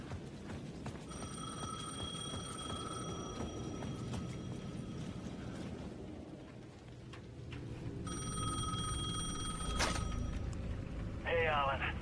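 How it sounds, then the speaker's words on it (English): A payphone rings at the edge of a plaza in the video game Alan Wake II, two bursts of electronic bell ringing with a pause between, set against a low ambient rumble and quiet background sounds. "The payphone at the edge of the plaza was ringing again."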